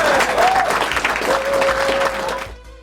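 An audience at a live speedrunning event breaks into loud, sustained applause and crowd noise, with a faint tonal sound gliding beneath. The clapping cuts off abruptly at the end.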